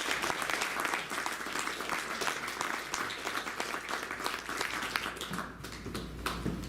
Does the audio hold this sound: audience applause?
yes